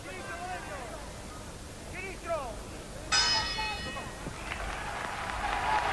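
A bell at a WBC world super bantamweight title boxing bout rings out sharply once to end the round, a bright metallic clang that decays over a second, heard over crowd noise and a commentator talking.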